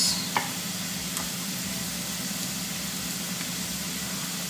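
Red onions sizzle in a hot pan of frying corned beef, a steady close crackle with a couple of brief stirring scrapes near the start.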